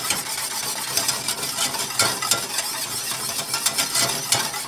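Gravy being stirred continuously in a pan over a low flame, a steady close scraping and swishing with faint sizzling and light metallic clinks of the utensil throughout.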